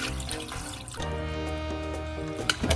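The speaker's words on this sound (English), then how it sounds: "and you add some water" Water pours steadily from a tap into a bowl holding chicken with salt and white vinegar, a continuous splashing flow with a brief louder splash near the end.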